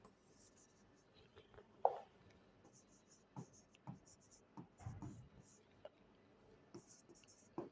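Chalk or marker strokes from a teacher writing on a board during a Bengali-language English grammar lesson, with scattered taps and scratches, faint and close, under quiet talk.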